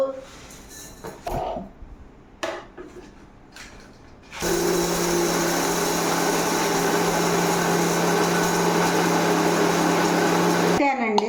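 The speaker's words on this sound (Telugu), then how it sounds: "ఇది మిక్సీలో పడతామండి." A mixer grinder grinding coriander seeds for drumstick-leaf spice powder whirs loudly and steadily for several seconds after a few quiet clicks and handling noises, then stops abruptly.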